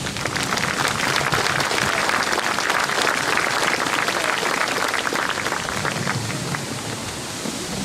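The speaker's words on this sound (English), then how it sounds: "Please join me in a round of applause in thanking these honorable men and women for their dedication to our country." An audience at a Vietnam Veterans Day celebration claps in sustained, dense applause, steady and fairly loud throughout before tapering slightly at the end.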